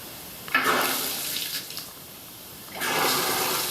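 A bathroom faucet in a newly tiled upstairs bathroom runs in two short gushes of water, separated by a brief quiet pause, heard up close with no talking.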